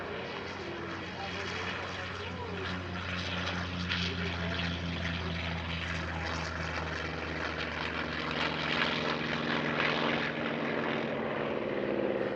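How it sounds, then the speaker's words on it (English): A Vought F4U-4 Corsair propeller fighter flies at the Air Legend airshow at Paris-Villaroche, its piston engine a loud, steady, rumbling drone that holds for the whole stretch. "Next, the Amical Jean-Baptiste Salis aircraft, an F4U-4 flown by Edmond Salis."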